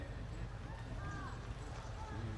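Horse hooves thud and clatter in a steady, continuous patter during a horse-breaking session, heard over a constant low background rumble.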